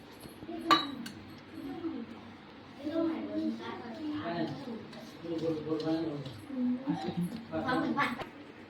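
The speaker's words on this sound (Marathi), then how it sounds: "आता आपल्याला थोडं थोडं करून दूध मिक्स करायचं याच्यात." A spoon clinks against a bowl while milk is mixed into biscuit cake batter, giving a few sharp metallic taps, one near the start and more toward the end, under steady talking.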